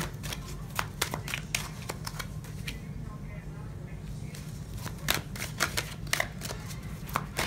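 Tarot cards being shuffled by hand, a run of quick papery riffles and soft slaps in uneven bursts, close up, with a voice speaking quietly underneath.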